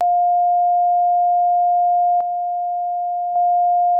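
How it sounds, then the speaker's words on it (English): A pure, steady tone holds at one pitch throughout, loud and unwavering, broken only by two faint clicks. "it's just going to be the exact same sine wave at twice the volume"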